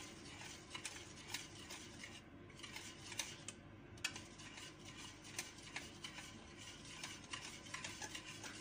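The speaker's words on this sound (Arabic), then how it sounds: "كنبدا كذلك على الخلط" Chocolate fondant batter being mixed in a bowl makes a soft, continuous scraping and stirring with quick light taps of the spoon, quiet and close, with no voices.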